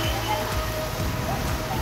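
Heavy rain falls as a dense, steady hiss close by, with no break over the short stretch.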